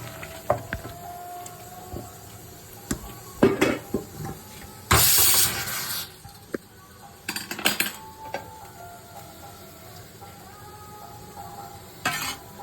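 Cooked rohu-type fish curry with eggplant in mustard gravy is poured from the pot into a serving dish: scattered clinks of a utensil on metal, then a dense scraping, pouring rush of about a second, followed by lighter knocks.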